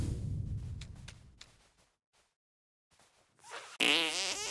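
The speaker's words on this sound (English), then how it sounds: "how come he can't sneak a fart behind your fez?" A fart from the South Park: The Stick of Truth video game: a low sputter fades out into brief silence, then a sudden loud, squeaky wavering blast bursts in close at the end, with no voices.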